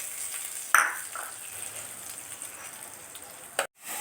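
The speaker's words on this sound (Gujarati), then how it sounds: "એના માટે મેં તેલ મૂકી દીધું, એમાં રાઈ નાખી દીધી, અડદની દાળ નાખી, લીમડો નાખ્યો" Mustard seeds, urad dal and curry leaves sizzling and crackling in hot oil for a tempering, a steady faint fry with a couple of sharp pops and spatters.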